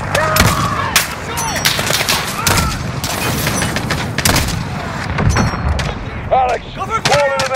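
Modern Warfare campaign combat: dense bursts of automatic gunfire and booming blasts crackle close and loud, with shouted voices and radio chatter mixed in.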